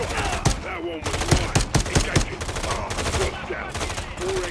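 Pistol gunfire in Call of Duty Modern Warfare III, a rapid series of sharp, close shots fired in uneven bursts over a busy game soundscape.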